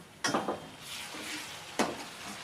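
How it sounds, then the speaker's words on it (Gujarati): Crackled garlic tipped into a hot pan bursts into a loud, close sizzle with two sharp stirring scrapes, the frying hiss continuing steadily between them. "હવે આ લસણ આપણું કકડી ગયું ને એની અંદર નાખી દઈશું"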